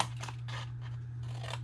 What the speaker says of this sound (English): I'm going to come back and angle cut my tab